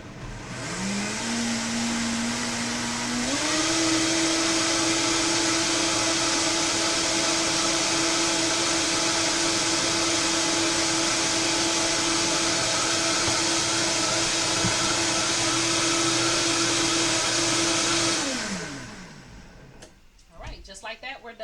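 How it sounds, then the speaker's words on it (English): A blender whirs up to speed and holds a loud, steady motor drone while blending red lentil flatbread batter, then winds down and stops near the end, leaving brief clattering. "We're just going to blend it up."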